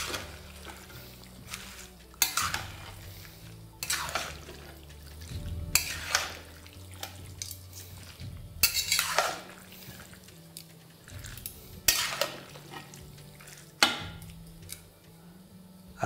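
A mixed winter vegetable curry with spinach is stirred in a pan, with a spoon scraping in rhythmic bursts about every two seconds over a low, steady background.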